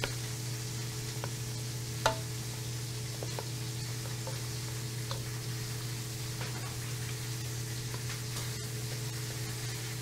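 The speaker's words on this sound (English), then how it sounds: "And then I'll just stir." Mashed potatoes with chives stirred in a pot, a soft steady scraping and stirring over constant background hum, with a couple of faint clicks; no one talks.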